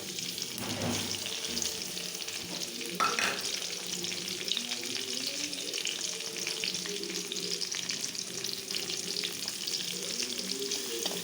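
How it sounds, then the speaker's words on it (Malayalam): Onion, tomato, green chili and garlic sauté in a pan with a steady, close sizzle and occasional stirring scrapes throughout, with no talk. "ഇത് നന്നായിട്ടൊന്ന് വഴറ്റും. ഉള്ളിയും തക്കാളി പച്ചമുളകൊക്കെ നന്നായിട്ട്"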